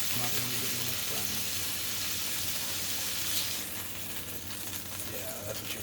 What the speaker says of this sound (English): Try to sear up this one side one more time because it's not really getting this done.